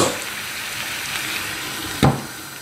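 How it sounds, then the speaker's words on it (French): Veal browning over high heat in a pan, a steady close sizzle of frying meat with a brief sharper clatter near the end. "je les laisse ma viande revenir sur le feu, sur un feu vif, jusqu'à coloration"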